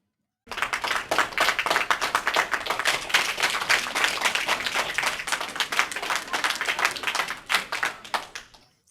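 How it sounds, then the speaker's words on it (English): A live event audience bursts into loud, dense applause that holds steady for several seconds and then tapers off quickly, with clapping close by and no talk over it. "A big, warm round of applause"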